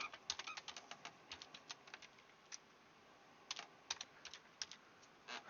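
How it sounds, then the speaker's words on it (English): Typing on a computer keyboard during a tabletop bomber mission game, rapid irregular key clicks in short bursts with brief pauses, soft and close over faint background hiss, no talk. "I'm having all kinds of difficulty today typing"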